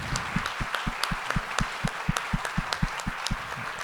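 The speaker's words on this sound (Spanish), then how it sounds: "Vamos a darle un fuerte aplauso a la gente de Bengala." An audience claps for the people of Casa Bengala at a master class event at Poliforum, with evenly spaced, distinct claps in a steady rhythm, fairly close, with no voices over them.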